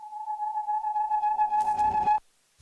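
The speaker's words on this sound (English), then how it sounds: "Just a UFO landing." A sci-fi UFO landing effect in a music track after a drop: a steady electronic tone with rising harmonics holds for about two seconds, swells into a brief noisy burst, then cuts off abruptly into silence.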